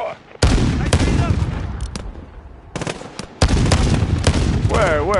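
Gunfire in Call of Duty Modern Warfare, a campaign battle: loud bursts of weapon fire and explosions with rapid shots, filling most of the clip, with voices talking over the din.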